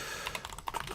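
Rapid typing on a computer keyboard, with a string of close, crisp key clicks in an uneven rhythm and no voices over them.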